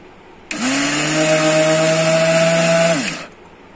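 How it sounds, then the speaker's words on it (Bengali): A kitchen blender grinds drained, soaked rice for a jaggery rice pudding, a loud, steady whirring motor whine that starts abruptly, holds for about two and a half seconds, then cuts off. "তো এখন নিয়ে আসছি চালগুলোকে সুন্দর করে ব্লেন্ড করে নেব।"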